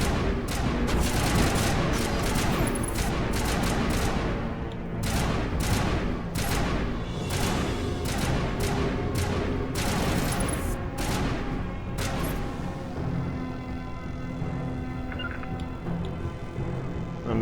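Dense gunfire from the Mass Effect game crackles in rapid overlapping volleys for about twelve seconds, loud and close. It then thins into scattered shots over a lingering background hum.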